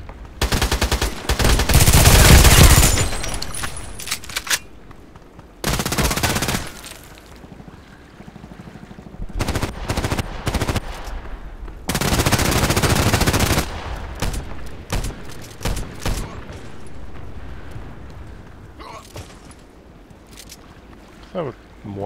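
Rapid bursts of automatic fire from a Kedr SMG in the shooter game Contract Wars: loud, close and repeated, with short pauses between volleys and a voice talking in between.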